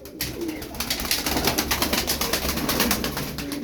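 Tumbler pigeons coo steadily in a loft, a continuous rolling murmur of overlapping soft calls from several birds close by, with rustling and faint movement underneath.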